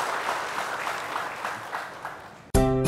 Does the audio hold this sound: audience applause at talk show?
yes